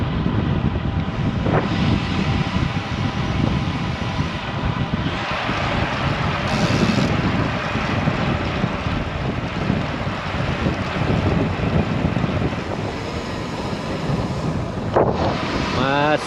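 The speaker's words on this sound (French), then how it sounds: "Un bon vent de face." A strong headwind roars across the microphone while cycling on a road on Corsica, a loud, continuous buffeting rumble with no letup.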